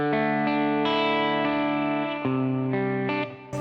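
Electric guitar through a Bugera T50 Infinium valve amp with the gain turned up, sustained overdriven chords ringing with a gritty, slightly breaking-up edge, changing a few times and staying loud and steady throughout.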